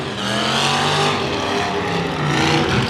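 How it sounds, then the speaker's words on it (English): Demolition derby cars at the 2013 L.A. County Fair spin donuts together, their engines roaring and revving in a loud, continuous wash of motor noise with no break across the whole stretch. "They're all doing donuts."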